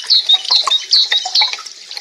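Water drops drip in a quick, irregular series of bright, ringing plinks, close and clear, with no voices over them.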